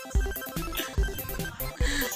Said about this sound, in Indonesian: ada notifikasi terus